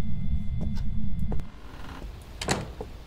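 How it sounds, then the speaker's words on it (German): A door shutting in the horror game Phasmophobia: a low rumbling slide that cuts off abruptly, followed by a fainter knock and a softer thud after a pause. "Er macht gerade die Tür zu"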